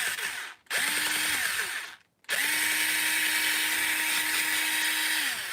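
A power drill spins a part from an HPI Savage RC truck in three bursts. A short whir is followed by two long, steady runs close up, with abrupt stops and restarts between them.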